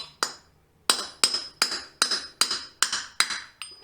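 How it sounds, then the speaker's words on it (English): Mallet strikes drive a bearing cap into a Dodge NP241 DLD transfer case during an input shaft swap: eight sharp metallic taps at a steady, slightly quickening rhythm, close and loud, with a short pause after the first. "I'll grab my mallet, and then we're going to kind of tap it in."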